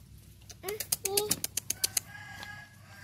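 A rooster clucks in a quick series of sharp, rhythmic calls close by, with a low background hum.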